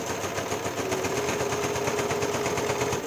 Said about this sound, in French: je suis en train de coudre tout le tour